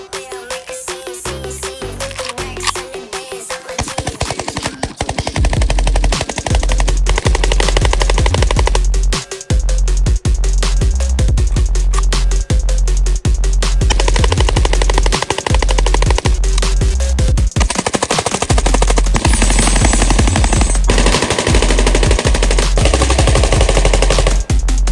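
RPK74 rifle, a clone of the Call of Duty Black Ops model, fires loud sustained automatic bursts that fill most of the stretch, with a brief gap between volleys and no talking.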